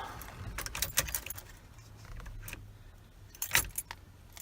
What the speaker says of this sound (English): I'm going to turn the key for start.